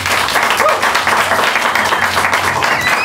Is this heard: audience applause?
yes